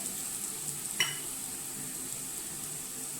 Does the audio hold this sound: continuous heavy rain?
no